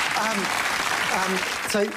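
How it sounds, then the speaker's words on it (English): Audience applause after a demonstration, a steady wash of clapping filling the whole stretch, with a few voices calling out over it near the start and end. "Round of applause"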